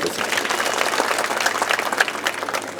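A crowd at an open political rally in Rajur claps together in dense, continuous applause. The clapping is loud and close, with faint crowd murmur mixed in.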